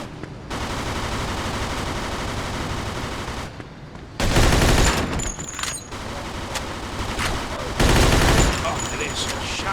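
Gunfire in the Mafia 2 video game, dense bursts of automatic fire that continue through most of the stretch and grow louder in two heavy volleys, with shouted voices mixed in.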